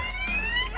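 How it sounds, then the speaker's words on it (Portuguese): A car alarm on a rare Santa Matilde car warbles in a rapid, repeating electronic siren tone, loud and close, with a low rumble underneath and no talking. "E eu fui inventar de abrir ali e pronto. Disparou o alarme."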